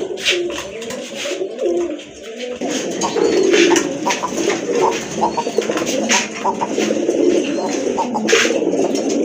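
Pigeons coo loudly and continuously at close range, several birds overlapping in throaty rolling calls among a collection of fancy domestic and imported breeds, with light rustling and no talking.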